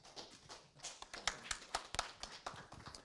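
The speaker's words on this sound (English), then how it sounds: "Give him an applause," Sparse, irregular claps from a small audience at a Java user group meetup in Sendai, quiet and close, with a few sharper hand smacks standing out.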